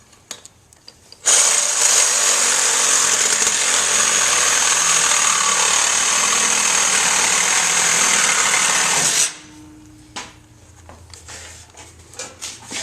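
A reciprocating saw fitted with a hacksaw blade cuts through metal, with a piece of tin shielding nearby chrome. It runs loud and steady for about eight seconds, then stops, leaving only faint handling noises.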